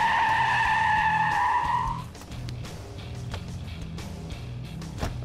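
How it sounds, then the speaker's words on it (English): A 1990 Chevy 454 SS truck with rear-only ABS brakes hard, its tires letting out a loud, sustained squealing skid for about two seconds before fading into rumbling road and engine noise. "The stopping proved to be another story, mostly due to the ABS module that only controls the rear brakes on our model."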